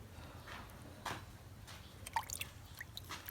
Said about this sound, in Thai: กำลังล้างเห็ดล้างเห็ดอยู่